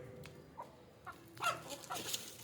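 A few native country chickens at evening bran feeding cluck faintly, with short scattered calls and a brief louder squawk, in a quiet setting.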